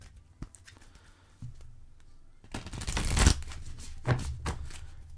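A deck of angel tarot cards is shuffled and drawn, with soft riffling bursts and a louder flurry of flicking card noise, close and alone with no talk.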